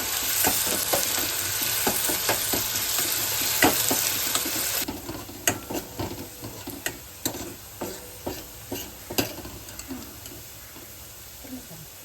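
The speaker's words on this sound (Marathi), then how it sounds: "आता छान भुजायचं." Chopped onions sizzle in plenty of oil for a spicy misal, with a steady crackle and repeated sharp scrapes and taps of a spoon stirring the pan, close up.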